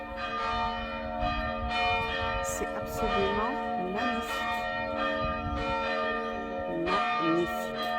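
Church bells ring steadily in the historic town centre of Pézenas, a rich sustained peal that fills the whole stretch, with a voice speaking over the ringing.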